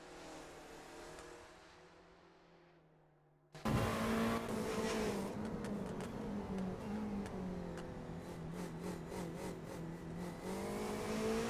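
A race car engine in the RENNSPORT sim racing game at Spa-Francorchamps, running in a hypercar/GT3 event, cuts in loudly after a quiet lull and holds a steady droning roar with shifting pitch and light throttle blips.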